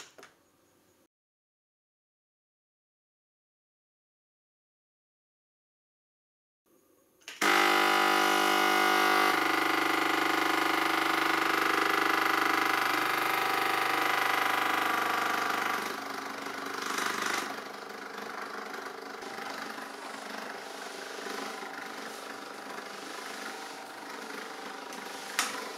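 A Lidl Silvercrest SDM 1500 steam mop switched to steam, giving a loud, steady whirring hum with a hissing layer that runs continuously after a few seconds of silence, easing slightly in level partway through.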